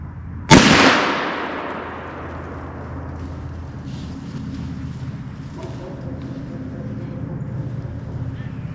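A single rifle shot fired at deer outdoors rings out sharply near the start, its loud crack followed by a long decaying rumble, then low outdoor ambience with faint voices.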